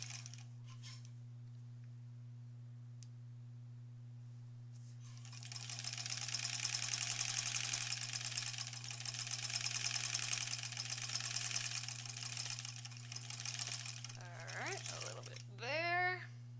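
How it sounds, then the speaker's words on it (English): A sewing machine stitches seam allowances on a quilt block, a steady whirring run of several seconds over a low electrical hum, with someone speaking briefly at the end. "And I'm going to sew in those seam allowances again here."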